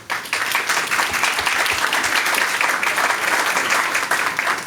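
Applause from an audience at a school district board of trustees meeting welcoming a new deputy superintendent, a steady, dense round of clapping filling the room for several seconds.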